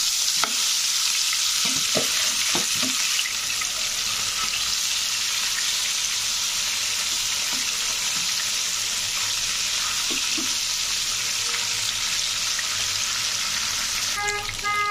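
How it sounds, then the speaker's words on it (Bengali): Pieces of rupchanda fish fry in hot oil in a wok, giving a loud, steady sizzle that runs unbroken throughout, with a few faint clinks early on. "মাছ ভাজা শেষ, হালকা করে ভেজে নিলাম"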